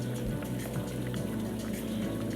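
Steak bubbling and sizzling in a skillet, a dense, steady crackling hiss with soft popping throughout, close and moderately loud.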